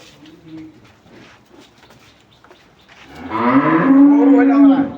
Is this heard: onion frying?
no